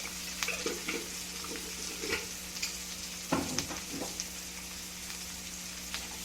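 Cabbage fry with turmeric and curry leaf powder is stirred in a pan, soft crackling sizzle under irregular scrapes and taps of a spoon against metal, close and moderately quiet.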